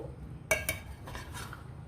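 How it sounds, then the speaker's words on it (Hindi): A spoon gently stirs jaggery rice in a pot, giving two quick metallic clinks against the pot followed by soft scraping, all fairly quiet. "हल्के हाथ से आपने चम्मच को हिलाना है कि हमारे चावल टूटे ना"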